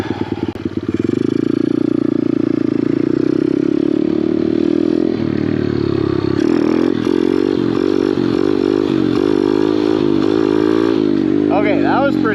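A pit bike engine revs hard during wheelie practice, a loud, buzzing single-cylinder drone that climbs and wavers in pitch, close to the rider, with a voice heard briefly near the end.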